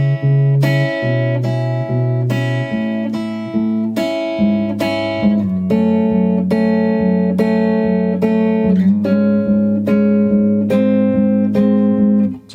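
An acoustic guitar in standard tuning plays the fingerpicked intro of a song, plucked notes ringing over a low repeating bass line, steady and close with no voices.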